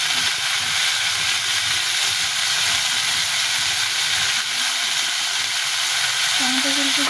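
Chopped tomatoes hit potatoes already frying red in hot oil and set off a loud, dense, unbroken sizzle and hiss that runs at close range for the whole stretch, with a faint tonal whine near the end.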